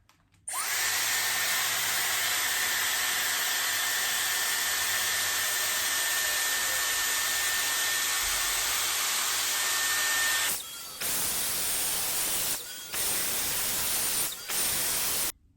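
A Dyson Airstrait hair straightener blows a steady, loud rush of hot air while hair is pressed between its plates, broken by a few short pauses near the end.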